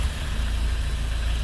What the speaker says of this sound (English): If I start the engine, which I can do that now